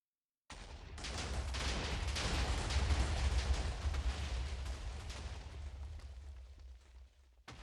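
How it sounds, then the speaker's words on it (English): TNT detonates in a crafting video game, a sudden loud blast followed by seconds of rumbling, crackling debris that slowly fades. "I was hoping for a bit bigger of an explosion, but I've made some more TNT"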